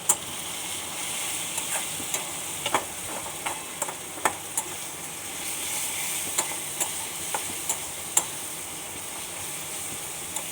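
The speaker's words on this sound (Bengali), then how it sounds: "তারপরে দেব সমস্ত গুঁড়ো মশলাগুলো দিয়ে এবার আমি নাড়তে থাকবো" Spiced semolina upma mixture being stirred in a hot pan with turmeric and cumin powder, a steady sizzle under sharp, irregular scraping clicks of the spoon against the pan, close and alone without talk.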